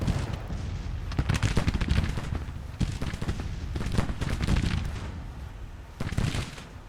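Sustained infantry musket volleys crackle and roll through a Grand Tactician: The Civil War battle, dense overlapping shots swelling in loud bursts with no pause.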